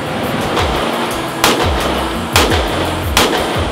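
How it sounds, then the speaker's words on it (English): Sharp, loud pistol shots from an M&P at an outdoor shooting range, several spaced reports roughly a second apart, each with a brief echoing tail. "We're both doing 10 rounds out of the M&P first"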